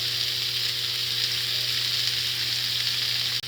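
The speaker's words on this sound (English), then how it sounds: "We're going to let the meat brown on each side for 60 seconds each." Ribs browning in a pan on a stovetop, ahead of braising with tomato and basil, give a steady, loud, close sizzle that holds evenly throughout with no talking, cutting off abruptly at the very end.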